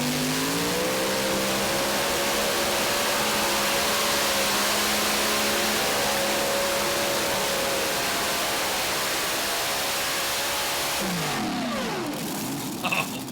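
An unlimited class tractor pulling machine roars through a pull at the Dairyland Super Nationals in Tomah, a loud, continuous thunderous engine drone with rising pitch that shifts and fades near the end.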